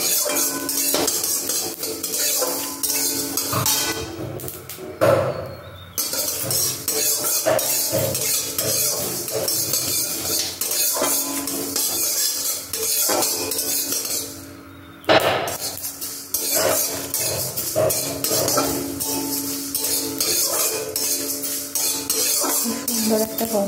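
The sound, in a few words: spices being fried and stirred in a pan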